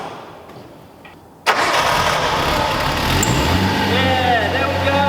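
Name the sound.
Nissan R32 Skyline engine starting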